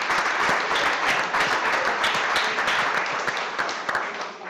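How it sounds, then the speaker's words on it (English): An audience at a cooking competition show breaks into steady, dense applause, loud and continuous, with many hands clapping at once before it starts to fade. "So a big round of applause for Streaming Star Pros."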